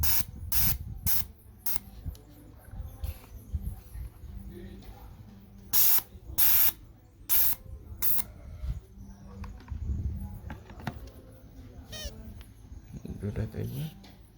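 Fuel injector being cleaned at home, giving several short, sharp hissing bursts of spray at irregular intervals, with quieter mechanical handling noises between them.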